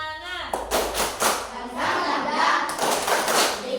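A school class does a rhythmic group clap, tepuk semangat: several bursts of clapping and thumping hand sounds in a lively pattern, mixed with children's voices calling along.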